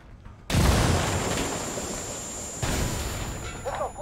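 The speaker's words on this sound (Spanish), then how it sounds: "¡Eso fue una pinche explosión!" A grenade goes off in the tactical shooter Ghost Recon Wildlands as a sudden loud blast that rolls on as a broad roar, with a second surge near the end and brief voices underneath.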